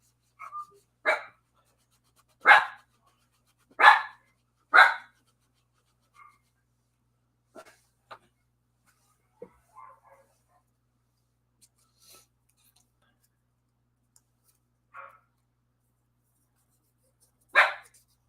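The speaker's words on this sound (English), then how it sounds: "he hears his cousin barking in the house, so he feels like he has to join in the fun" A dog barks indoors in a house, a handful of sharp, fairly close barks in quick succession early on, then scattered fainter yelps and one last bark near the end, with quiet gaps between.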